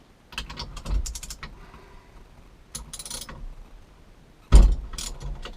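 A hand ratchet fitted with a 7/8 socket gives three separate bursts of quick metallic clicking, with quiet gaps between them and the last burst starting with a louder clunk.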